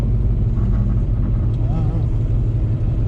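A loud, deep exhaust from a Whipple-supercharged Coyote-swapped Fox Body Mustang rumbles steadily at idle, close by, with a brief voice faintly heard beneath the drone.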